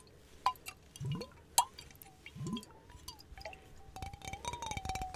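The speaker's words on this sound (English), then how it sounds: "Water jar." Water dripping, plopping and sloshing inside a glass water jar, with separate close drips, soft clinks and a brief gurgle that turn into a busier run of small splashes near the end. The sounds are intimate and quiet, with no talking.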